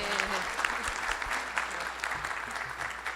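An audience of producers at an irrigation-farmers event applauds a group, a dense, sustained clatter of clapping heard somewhat far off, with faint low thumps and a brief murmur of voices mixed underneath.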